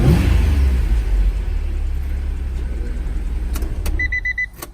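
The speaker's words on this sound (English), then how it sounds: "Give you guys a little rev really quick." A 1991 Acura NSX engine rumbles loud and deep close by as it is revved, its roar easing slightly toward the end, followed by a few faint electronic beeps.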